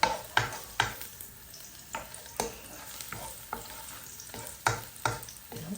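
Garlic sautéing in a pan, a soft steady sizzle broken by a run of sharp spatula clinks and scrapes at irregular intervals, close by with no talking.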